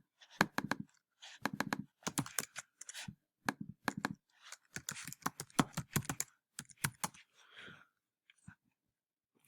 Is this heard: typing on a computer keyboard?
yes